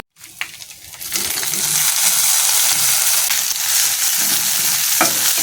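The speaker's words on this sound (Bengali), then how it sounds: "এটা কিছুক্ষণ ভাজা হতে থাক" Meat with chilli and spices frying in a pan, a loud continuous sizzle that builds after a quiet start, with a few metallic clinks from stirring, close up and without talk.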